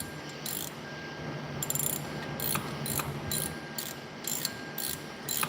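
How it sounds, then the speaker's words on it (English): Ratchet tightening bolts while brake pads and rotors are changed on a car, a series of quick, close metallic clicking bursts in an uneven rhythm over quiet garage background. "Tighten these down."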